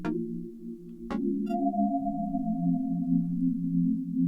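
A synth pad built from detuned, widely spread sine-wave voices sounds alone, with soft sustained low tones that smear and beat against each other and a brief higher held note in the middle.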